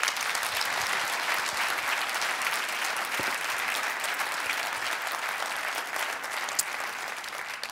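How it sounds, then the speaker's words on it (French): Sustained applause from a seated audience at a French-language morning talk on collective intelligence and innovation, an even wash of clapping at moderate distance with no pauses. "C'est maintenant le moment de vous applaudir extrêmement fort."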